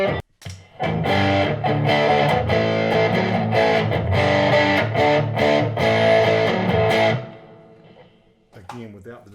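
An electric guitar driven through a Behringer OD300 distortion pedal plays dense, heavily distorted chords and notes, loud and sustained, then cuts off abruptly and trails into a few faint strums.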